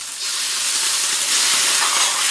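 A bowl of water poured into a hot wok of fried ginger and scallions bursts into a loud, sustained steam hiss that swells and stays strong throughout.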